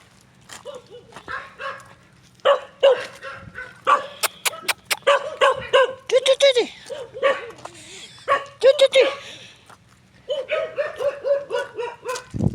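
German shepherd dogs bark repeatedly and loudly up close, sharp bursts in irregular volleys with short yips and whines between them, while someone speaks intermittently among the barks.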